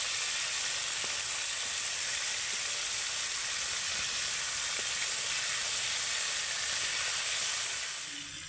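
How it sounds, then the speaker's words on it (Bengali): Steady, loud sizzling of Bombay duck (lote) fish frying in hot oil and being turned, a constant crackling hiss with occasional soft clicks and no talking. "এমনি যেমন আমরা অন্য কোনো মাছ ভাজি ঠিক তেমনই এইভাবে উল্টে পাল্টে মাছটাকে ভালো করে ভেজে নিতে হবে।"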